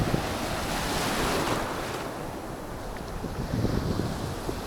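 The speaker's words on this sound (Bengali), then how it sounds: "ভাই, ঢেউগুলো দেখো কীভাবে আসছে।" Sea waves surge onto a beach in a continuous roar, with wind buffeting the microphone. The surf swells and recedes in loud, close washes, and no voices are heard.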